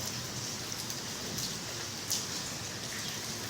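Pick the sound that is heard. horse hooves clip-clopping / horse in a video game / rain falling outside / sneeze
rain falling outside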